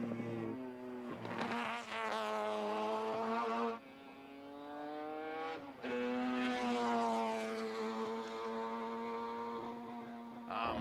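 Allan Moffat's number 43 Mazda race car screams at Bathurst's Mount Panorama, its engine note rising through the gears with brief dips at each shift, loud and close.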